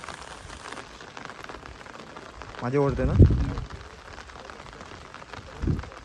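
Monsoon rain patters steadily at a dam in Konkan during a fishing outing, a soft continuous hiss beneath people talking, with a couple of louder bumps.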